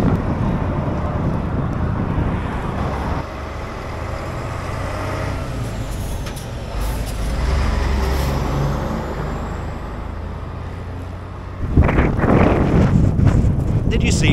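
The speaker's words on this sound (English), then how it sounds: "Wow, it's windy." Strong wind buffeting the microphone outdoors during exercise, a continuous low roar with gusts that rise and fall over about fourteen seconds and a sharp blast near the end.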